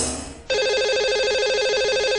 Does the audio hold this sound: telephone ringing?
yes